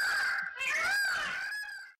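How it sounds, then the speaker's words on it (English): An Indian peacock gives a single loud, drawn-out nasal call that wavers in pitch, close by and clear, lasting about two seconds before it stops abruptly. "The Indian peacock is the national bird of India."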